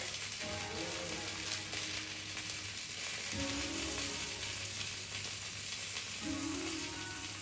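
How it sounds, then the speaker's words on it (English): Steady, close sizzling of eggplant frying in a pan, a constant crackling hiss with faint tonal clinks from utensils, no talking. "they're still sizzling as you can hear"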